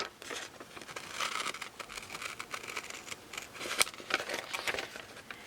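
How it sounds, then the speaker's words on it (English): Scissors cutting through a glossy magazine page for a magnet craft, a series of quiet, close crisp snips and paper crinkles in an uneven rhythm, with no talking. "Then we're just going to grab some scissors, and I'm going to cut inside the line that I traced."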